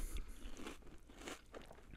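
Crunching and chewing of Halloween cereal, close and crisp, with several bite-and-crunch bursts in an irregular rhythm, no talking over it.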